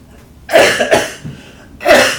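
Three harsh coughs in a row, the last after a short pause, fairly close and loud with no talking.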